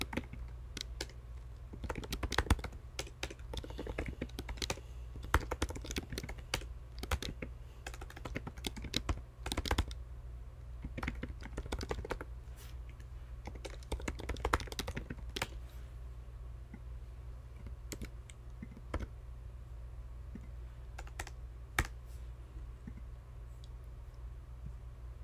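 Continuous computer keyboard typing while JavaScript code is written, steady close clicks with busier bursts early on over a low background hum, no talk.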